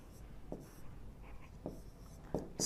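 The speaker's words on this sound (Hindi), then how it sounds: "इसको बड़ा मैं लिख रहा हूं" Marker or chalk writing on a board during a physics lesson, a few short faint scratchy strokes in quick succession, close and quiet.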